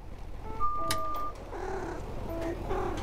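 A cat on a night bus gives a drawn-out meow over a constant low engine rumble, followed by softer mewing sounds and faint tones.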